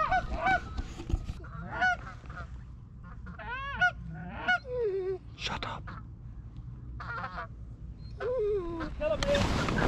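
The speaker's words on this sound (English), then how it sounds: "We can hear geese all around us" Geese honking repeatedly around a foggy New Zealand goose hunt, calls scattered near and far in irregular bursts, with a voice talking low underneath and a loud burst of noise at the end.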